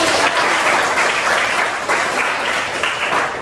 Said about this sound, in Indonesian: Wow, good job. Tepuk tangan juga.